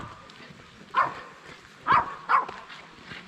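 A small dog barks along a rail-trail walking path in Asturias, letting out three sharp, separate barks spaced about a second apart. They come over a quiet outdoor background.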